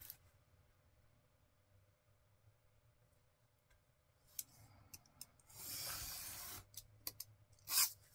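Book page paper trimmed with scissors for a junk journal: quiet at first, then a few crisp snips and a longer rasping cut near the end, close and alone.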